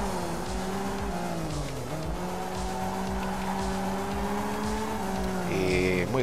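Rally car in the Art of Rally video game, its engine droning steadily with shifting pitch as tires squeal and skid through corners, loud and continuous, with a brief rev change near the end.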